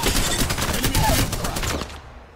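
Rapid gunfire in Apex Legends, a dense burst of close, loud shots rattling for about two seconds before cutting off abruptly.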